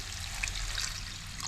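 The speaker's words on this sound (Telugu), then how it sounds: "కొంచెం నీళ్ళు వేసుకుందాం." Water poured into a pan of tender, peeled drumstick curry cooked with milk, a short steady pouring hiss close to the microphone, with nothing else heard.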